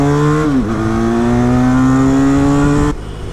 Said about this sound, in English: Starting from a signal, listen to the exhaust.